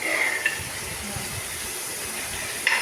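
Sliced onions fry in hot oil for a chicken curry, giving a continuous, even sizzling hiss with a couple of brief sharper crackles.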